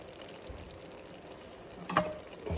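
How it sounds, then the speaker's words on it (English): Indian Creole potatoes are stirred in a pan, giving a quiet steady sizzle of frying with a few soft scrapes and clinks of the utensil against the pan. "now we're gonna stir that all together"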